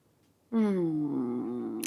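A human voice imitates a cat's drawn-out, whining cry, one long wavering wail that slides downward, close and fairly loud.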